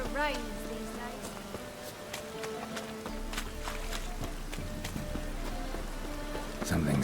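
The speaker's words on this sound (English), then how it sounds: "It only ever rains these days." Steady rain patters down in The Witcher 3: Wild Hunt with scattered droplet hits, continuous and fairly close, while a low ambient tone hums underneath.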